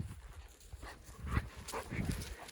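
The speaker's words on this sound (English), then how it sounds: "He's a happy running dog." A dog running through the outdoors at an old Native American encampment, quiet scuffling footfalls and rustling with soft panting, fairly faint and steady, no talk.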